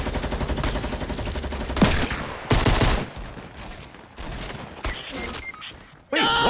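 Fortnite light machine gun hammering out a long, fast automatic burst, then broken bursts and single loud blasts with short pauses between, close and harsh.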